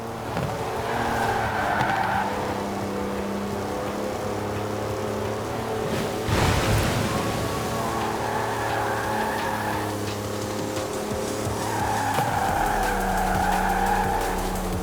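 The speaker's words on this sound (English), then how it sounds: "That's a four-wheel drive car on mud tyres completely sideways" A four-wheel drive car on knobbly mud tyres slides sideways, its engine droning steadily while tyre squeal rises and falls in several long skids, with a sharp scuff in the middle.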